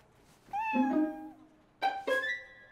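Cartoon cat at a police station meowing twice, a long drawn-out meow followed after a pause by a shorter two-part meow, clear and close with no talk.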